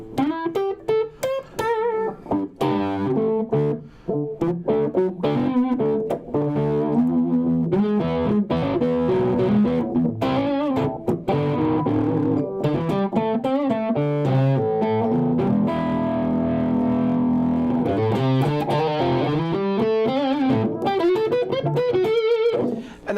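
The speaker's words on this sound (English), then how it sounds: "for example, reverbs. Give you a little bit more of that." Electric guitar played through an amp with a reverb effect: sustained, ringing notes and chords with a wet, lingering tail, loud and continuous throughout.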